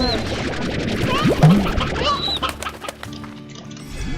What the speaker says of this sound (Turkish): Aa tavuk var.